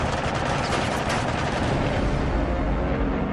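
Aircraft machine gun firing during air combat, a loud dense burst of rapid shots and booming blasts packed close together, with no talking.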